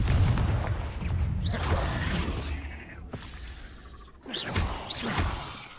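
Confringo fire blast spell cast in Hogwarts Legacy, a few booming whooshing blasts with rumbling tails and a sharp crack midway, fairly loud over continuous game background noise.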